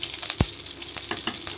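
Fish and meat pieces frying in oil with mustard seeds and fenugreek give a steady close sizzle, broken by one sharp thump or splash and light crackling pops.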